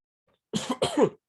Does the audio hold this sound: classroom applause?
no